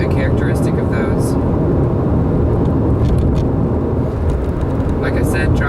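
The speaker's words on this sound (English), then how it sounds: "The only thing I'm getting is a tiny bit of road noise, but that's to be expected with all low-profile tires." Road noise inside a 2012 Volkswagen Passat SE on low-profile tires, a steady low rumble and tire roar filling the cabin at driving speed, with someone talking over it.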